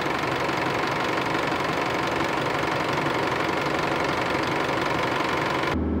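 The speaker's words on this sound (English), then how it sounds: "we can give it a rev and heat it up to operating temp" A car engine runs steadily after a coolant flush, held at a raised idle to warm up to operating temperature, a continuous broadband hum with a low mechanical rumble that cuts off abruptly at the very end.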